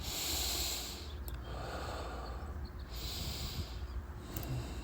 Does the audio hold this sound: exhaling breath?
yes